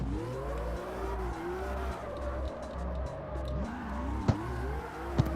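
A racing car in the Need for Speed Underground video game corners with a steady engine drone, rising and falling revs and a couple of sharp knocks, with no voices.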